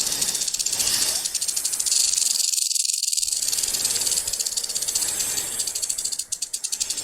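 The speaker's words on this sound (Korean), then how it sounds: "뱀 소리가 들리나요?" Snake sound effect of a fiery serpent in a children's church Bible story about the Israelites, a loud continuous hissing rattle that drops out briefly for about a second before resuming.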